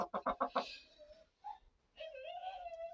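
A few short clucks from a chicken up close, followed by drawn-out fowl calls and a brief squawk; no clear talking.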